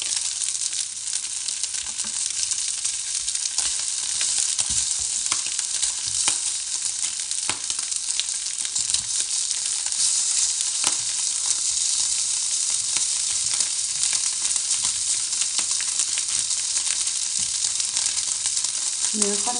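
Mackerel sizzles and fries steadily in a covered pan on a stovetop, a continuous close crackling hiss with occasional small pops and faint utensil taps throughout.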